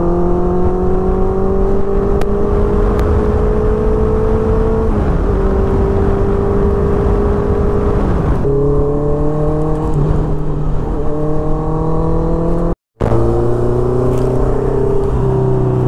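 A car drives through congested city traffic in Katni, its engine note rising and falling with steady harmonic whine and shifting gears, continuous and close throughout, with a brief dropout near the end.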